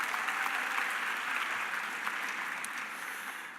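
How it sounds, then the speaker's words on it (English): Audience applause at a 2017 university graduation celebration: steady, dense clapping from a large crowd throughout, fairly even in loudness and gradually easing toward the end, with no talk over it. "You deserve a round of applause."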